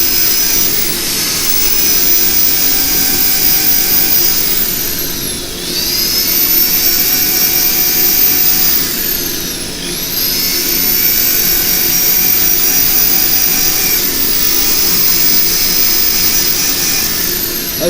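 A firewood piece spinning on a woodturning lathe is sanded with 320 grit paper: a loud continuous whirring hiss with steady tonal whine, dipping briefly twice as pressure eases, no voices.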